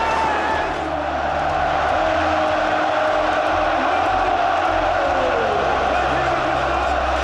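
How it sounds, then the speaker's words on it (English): A stadium crowd at a Manchester City Premier League match roars and cheers for Norwegian striker Erling Haaland, a loud, sustained wash of voices that holds steady throughout. "The biggest cheer on the podium for the Norwegian"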